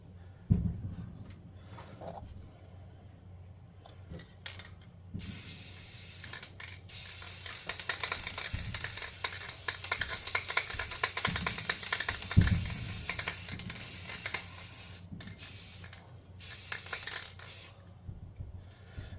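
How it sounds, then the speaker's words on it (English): A steady, hissing spray from an aerosol can runs for several seconds at a time, broken by short pauses, with faint rattles and no talking. "we're going to spray paint this now"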